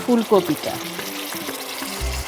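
Spice masala for reshmi kopi, a cauliflower dish, bubbling and frying in a pan, loud and close, with brief talk near the start and a fainter bubbling sizzle after.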